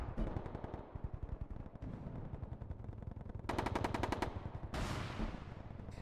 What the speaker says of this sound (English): so we don't have all the gunfire in my ear